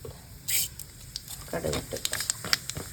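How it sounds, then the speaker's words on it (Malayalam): Mustard seeds crackle in hot coconut oil for a dal tempering, a scatter of sharp, irregular pops and spits over a low background hiss. "വെളിച്ചെണ്ണ ചൂടായി വരുമ്പോൾ കുറച്ച് കടുക് ഇടണം"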